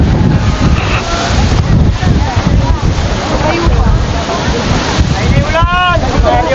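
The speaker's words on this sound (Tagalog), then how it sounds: "Lakas ng hangin." Strong wind buffets the microphone in loud, continuous gusts at the coast in Dingalan, Aurora, with surf churning underneath and voices faintly audible.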